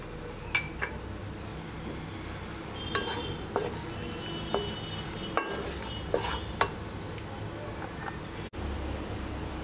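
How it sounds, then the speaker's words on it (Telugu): Figs and dates frying in ghee in a kadai while panjiri is made, giving a steady low sizzle with scattered scraping clicks and clinks of a spoon against the pan. "వీటిని కూడా మంచిగా ఫ్రై చేయాలి."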